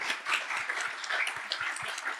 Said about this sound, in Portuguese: Uma salva de palmas, então, para o nosso entrevistado.